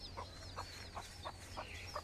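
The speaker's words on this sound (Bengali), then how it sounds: "এই মুরগিটার সাথে 16টি বাচ্চা ছিল।" A hen clucking softly in a regular rhythm, six short clucks about a third of a second apart, with faint bird chirps in the background.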